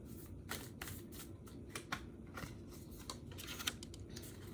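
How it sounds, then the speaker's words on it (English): Tarot cards are shuffled in quick riffling bursts and soft slaps, a repeated papery flutter that is faint and close. "I'm gonna keep shuffling"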